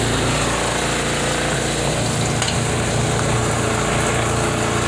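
A Costway portable washer fills its tub with water, producing a loud, steady rushing hiss with a low pump hum beneath, constant throughout and close, with no talking.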